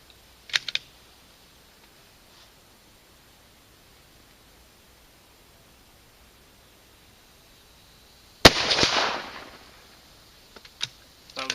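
A 6.5 Creedmoor rifle fires at a target 100 yards out, a single sharp, loud crack with a short rushing tail, set among long quiet stretches and a few small clicks.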